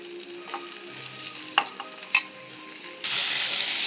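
Steady sizzle of chopped mango pieces frying in a pan with a few scraping stirs, growing louder and hissier toward the end; no talking.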